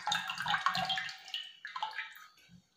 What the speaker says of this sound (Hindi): तो हम इसमें सारा पानी इसका छान लेते हैं।